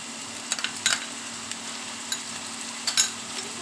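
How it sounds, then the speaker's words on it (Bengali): Ginger garlic paste and onions fry in oil with a soft, constant sizzle, while a spoon stirs and taps against the pan in scattered clicks. "আদা রসুনের পেস্টটা একটু তেল ছেড়ে দিই"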